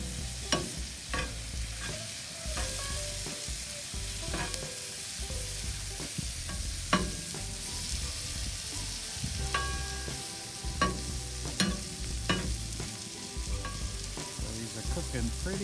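Chicken pieces frying with garlic and butter on a teppanyaki griddle, a continuous close sizzle broken by frequent sharp spatula clicks and scrapes as the food is stirred.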